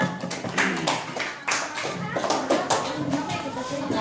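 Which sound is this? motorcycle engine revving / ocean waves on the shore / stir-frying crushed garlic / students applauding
students applauding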